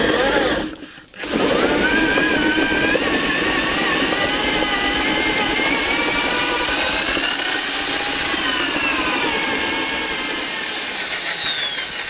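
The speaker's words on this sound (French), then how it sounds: "On met la perceuse." An electric drill powers a small home fruit press, a loud continuous whine with rising and shifting pitch that runs steadily after a brief pause at the start.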